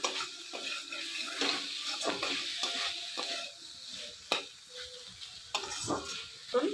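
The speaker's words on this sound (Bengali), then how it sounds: "টমেটো দিয়ে একটু ভাজবো" Tomatoes fry in a pan with a soft, continuous sizzle, broken by scraping stirs and a few sharp knocks of a utensil against the cookware.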